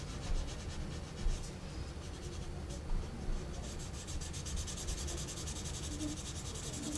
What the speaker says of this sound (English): I'll take my blending stump. I'm going to press out the wider areas. I'm going to smudge in here, which darkens it.